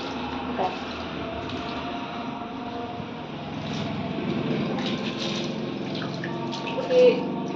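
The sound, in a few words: pouring water into window plant pots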